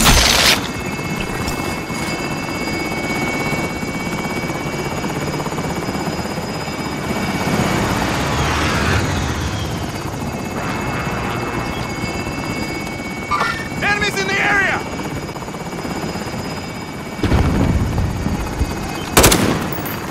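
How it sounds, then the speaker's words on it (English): A video game helicopter extraction: a steady rotor drone fills the scene, with scattered gunfire-like bursts and brief electronic tones over it. "Helicopter is exiting the AO."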